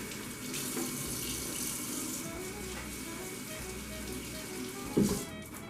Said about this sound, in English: You notice me washing my hands quite a bit